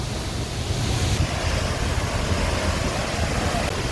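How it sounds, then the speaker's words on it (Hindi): Water rushes and sprays hard at Maneri Dam, a dense, steady roar of churning water heard close and loud with no break. "पानी की बौछार इतनी तेज़ है कि मेरे ऊपर भी बूंदें आ रही हैं।"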